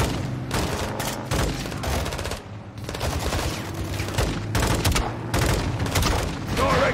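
Heavy weapons fire in the Modern Warfare 2 campaign, a loud barrage of repeated blasts and booms with bursts of gunfire, dense and continuous through the battle, voices shouting faintly.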